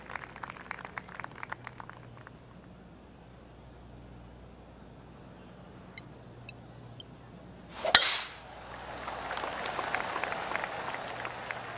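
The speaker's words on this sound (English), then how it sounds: "And now teeing off on this par 4 hole." A golf club strikes the ball on a par 4 tee shot at Torrey Pines South during the Farmers Insurance Open, one sharp loud crack followed by crowd applause swelling afterward, with quiet murmuring and faint clicks before.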